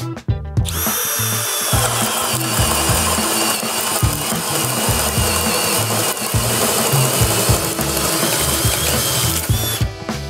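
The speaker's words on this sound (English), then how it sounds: "Some of you will be using this to drill larger diameter holes for rough-in." A loud Harbor Freight power drill grinds continuously, drilling larger diameter holes, its motor straining and pulsing under load, then winds down near the end.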